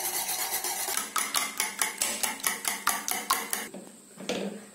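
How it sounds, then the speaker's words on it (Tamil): A whisk or spoon beats egg batter for banana-flower egg paniyaram in a bowl, making rapid, steady clinking strokes against the side, close and clear, then a brief pause before a last scrape. "ஒரு விஸ்கோ இல்லை கரண்டியோ வச்சு நல்லா பீட் பண்ணி எடுத்துக்கோங்க"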